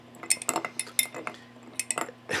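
A metal spoon stirring bourbon around a big ice sphere in a glass, with sharp, irregular clinks and scrapes close by and quiet gaps between them, ending in a brief rattle.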